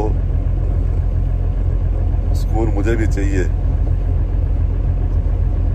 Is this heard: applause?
no